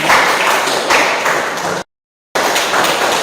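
Classroom applause, a dense burst of many hands clapping that runs for nearly two seconds, breaks off into silence, then resumes just as loudly, close and without talk.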